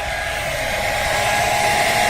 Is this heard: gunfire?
no